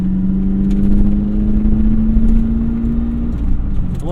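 A manual C4 Corvette accelerates with a rising engine drone heard from inside the car, steady and close for a few seconds before easing off.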